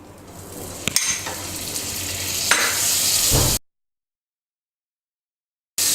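Butter sizzling on a medium-hot non-stick pan while making suji toast, a steady close frying hiss with a few light clinks, cutting off abruptly to silence partway through.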